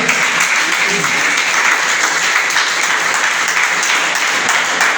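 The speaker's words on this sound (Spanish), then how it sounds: "¿Cuánto le dan un aplauso al Señor?" A church congregation bursts into sustained applause during a Spanish-language sermon on baptism, a dense, loud clapping that fills the room for the whole stretch with a few voices mixed in.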